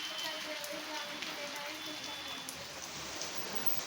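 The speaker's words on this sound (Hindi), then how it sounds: "दोस्तों यहाँ देखिए कितनी अच्छी बारिश स्टार्ट हो गई है" Rain falls steadily and evenly throughout, a continuous soft hiss of drops on surfaces at moderate distance with no voices.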